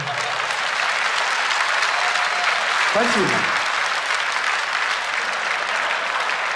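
Audience applause during a Russian stand-up comedy show, a steady dense wash of clapping throughout, with one brief spoken word from the stage over it.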